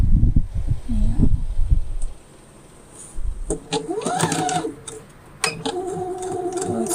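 Sewing machine stitching a few stitches and then back-stitching, with short bursts of rhythmic mechanical whirring and ticking, following a stretch of low background voice and handling noise at the start.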